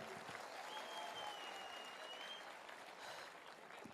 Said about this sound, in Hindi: मैं चाहूंगा एक जोरदार तालियां जरूर हो जाए गुरुदेव के लिए